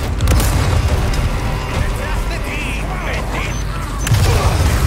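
A grenade explodes in the Resident Evil 4 Remake video game: deep booms near the start and end within dense, continuous game noise, with a player talking over it.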